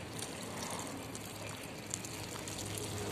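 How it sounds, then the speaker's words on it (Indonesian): A steady, soft wash of pouring water runs continuously at an even level as garden plants are watered, with faint splashes and no speech. "Ini teman-teman aku siram ya"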